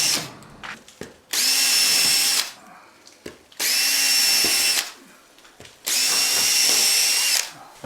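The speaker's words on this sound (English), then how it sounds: "Let's finish drilling the rest of the hole." A power drill bores a hole through old ceiling plaster in three loud, sustained bursts of whining motor noise, separated by short quiet pauses.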